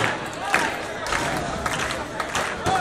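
Spectators clap and cheer from the stands at a bull-cutting contest in Rueda, a dense broadband roar of crowd noise with bursts of shouting throughout.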